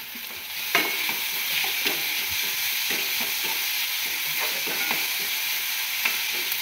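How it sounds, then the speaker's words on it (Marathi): Tomatoes frying with browned onions and salt in a pan give a steady close sizzle, with repeated soft stirring scrapes throughout and no talk. "टोमॅटो भाजायचे आपल्याला चांगलं। त्यासाठी त्याच्यात मीठ टाकूया।"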